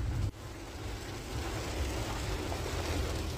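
Rain falls steadily while camping by Black River, Missouri, a dense continuous hiss of drops at even loudness throughout, with no talking.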